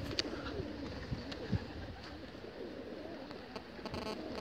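Over 1,000 pigeons coo softly together in an enclosed loft, a continuous low murmur of overlapping calls with occasional flutters and clicks.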